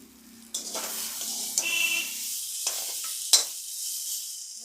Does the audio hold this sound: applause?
no